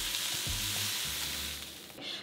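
Sausages fry in hot oil in a pan, giving a close, steady crackling sizzle with light stirring sounds and no voices.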